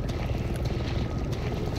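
A helicopter flies over in the video game Resident Evil 7, its rotor making a continuous, steady, broad chopping rumble that fills the background throughout.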